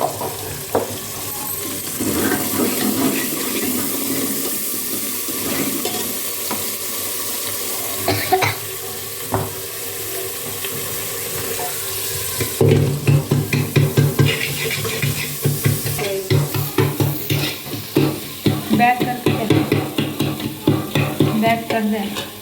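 Chopped tomatoes frying in hot oil as a tempering for a village-style potato curry, with steady sizzling and stirring scrapes, turning into louder rhythmic stirring clatter in the second half; no talking.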